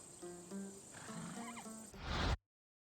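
A horse neighs in the video game Assassin's Creed Odyssey, a close, clear whinny with a rising and falling tonal call that ends in a loud breathy snort before cutting to silence.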